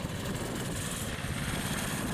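A small engine, freshly installed in a machine that sat unused for about a year, runs at a steady, even drone throughout, fairly close, with no talking.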